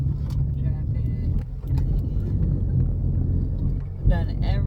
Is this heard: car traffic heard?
yes